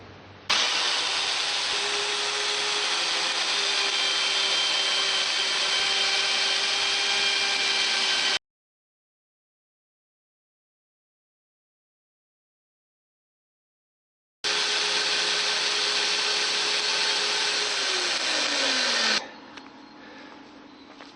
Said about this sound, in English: The next step is to cut the bracings here between the legs.